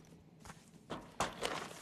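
Faint, sparse footsteps of a player character running in the video game Arena Breakout, a few soft thuds spaced unevenly over a quiet background.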